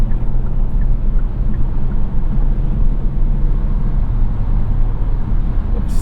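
Kia Stinger GT AWD accelerating up a highway hill, a steady low engine and road rumble with tire noise, continuous and close with no talking.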